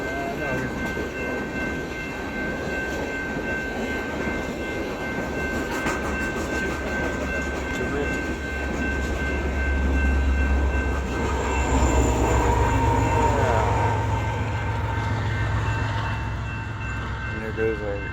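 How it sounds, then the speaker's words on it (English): Loaded eastbound coal drag freight train rolling past at Pacific Junction, a steady loud rumble and rail clatter swelling in the middle and continuing throughout, with faint voices underneath. "And there goes our eastbound loaded coal drag"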